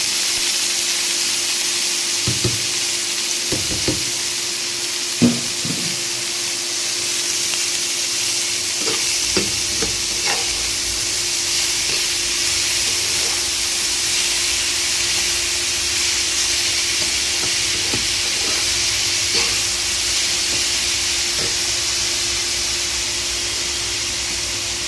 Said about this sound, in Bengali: এবার পাঁচফোড়নটা একটু নেড়ে চেড়ে নিয়ে সবজিটা দিয়ে দেব।